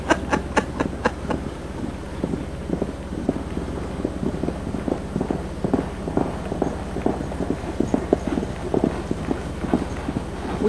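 Horses with riders walking along outdoors at a lodge, hooves clip-clopping in a steady, uneven rhythm of many close, moderately loud hoofbeats that continue throughout over a light background hum.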